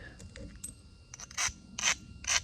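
Agatized coral spearpoint being flint knapped to take a small ridge off its tip: quiet scratchy rubbing and scraping, then three short, bright abrasive rasps close by in quick succession.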